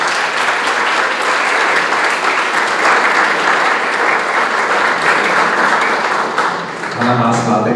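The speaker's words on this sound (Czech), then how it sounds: "Velký potlesk!" Loud, sustained applause from an audience for a prize winner at a national biology olympiad final, dense clapping throughout with a short dip near the end before it resumes.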